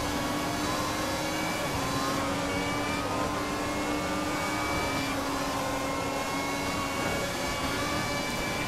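A race car engine in a 2015 racing simulation on PS4 revs continuously as the car heads toward Ascari, a loud, steady buzzing drone with rising and falling pitch sweeps as gears change.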